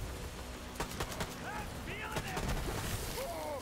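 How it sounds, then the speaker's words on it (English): Short bursts of gunfire from a weapon set to burst fire in Borderlands 3, a few sharp clustered shots amid game effects and whooshing sounds, with a voice speaking over parts of it. "I'm on burst fire."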